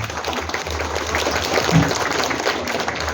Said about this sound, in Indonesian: Untuk itu, kami berikan aplaus untuk semuanya.